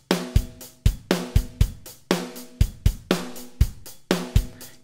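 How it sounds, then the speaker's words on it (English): A programmed MIDI drum pattern plays with kick and snare hits under a constant, evenly accented hi-hat, repeating in a tight, mechanical rhythm. "So here I have a drum beat that sounds like this."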